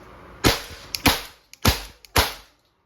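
Walther CP99 .177 caliber non-blowback airgun pistol fired four times in quick succession, each a sharp, close, loud crack with a short decay and a faint click before it, then silence.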